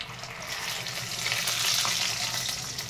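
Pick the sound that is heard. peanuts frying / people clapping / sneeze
peanuts frying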